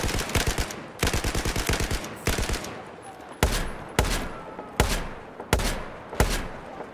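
Gunfire in the video game Battlefield 4, with rapid automatic bursts followed by a run of loud, evenly spaced single shots, close and punchy, with no talk.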